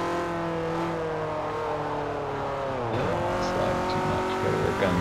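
Race car engine at Suzuka in Forza 4, sustained high revving with harmonic engine tone, pitch dipping and recovering as the car slides and tires squeal, loud and close throughout.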